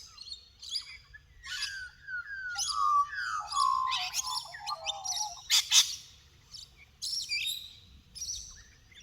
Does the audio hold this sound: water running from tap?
no